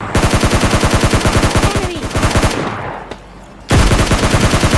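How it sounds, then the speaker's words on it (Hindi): Rapid automatic gunfire in a shooting video game, loud evenly spaced bursts that pause briefly and then resume at full volume. "मतलब कुछ गन साउंड्स आते हैं मुझे"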